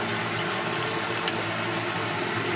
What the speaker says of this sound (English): I'm going to add some distilled water here.